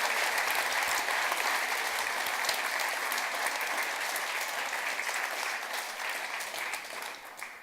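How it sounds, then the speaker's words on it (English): Sustained applause from an audience, dense clapping that holds steady and slowly tapers off toward the end. "I think David deserves a big applause"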